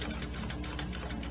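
An old sewing machine stitches a quilt, its rapid steady needle rhythm running close and continuous with a low motor hum beneath.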